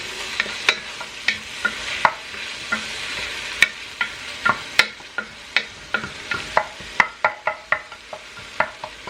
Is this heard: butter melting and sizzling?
yes